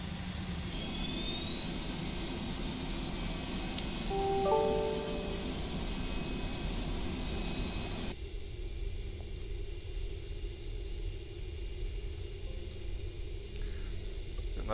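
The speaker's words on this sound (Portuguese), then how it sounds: "Vamos aqui iniciar o motor 2 agora." Engine 2 of a Boeing 747-400 spools up in Flight Simulator X, a steady jet whine rising in pitch over a low rumble, then cutting to a quieter cockpit hum partway through.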